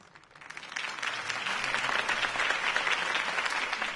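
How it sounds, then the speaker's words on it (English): Crowd applause in a video game following a campaign speech, a dense wash of clapping that swells within the first second and holds steady and fairly loud to the end. "If only Mr. Wayne, my campaign's largest backer, could have heard that applause"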